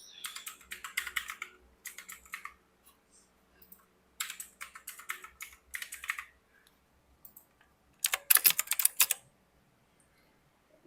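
Bursts of computer keyboard typing as a password is entered on a Mac, several quick clattering runs separated by pauses, close and clear with no talk.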